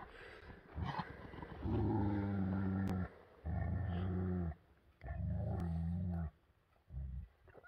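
A dog growls in long, deep, rumbling bouts, four of them in a row, separated by brief pauses.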